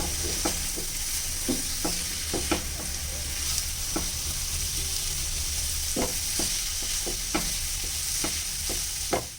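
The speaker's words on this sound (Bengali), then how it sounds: "নুনটা দিয়ে আবারও আমি সবগুলো উপকরণ নাড়াচাড়া করে নেব" Onion kachori filling being stirred with salt in a hot pan: a steady low sizzle punctuated by repeated sharp spatula scrapes and knocks at an uneven rhythm, close up and without voices.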